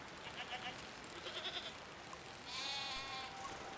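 Goats bleat in a video game, a few short nasal calls close by followed by a longer, louder wavering bleat, set against a faint outdoor background.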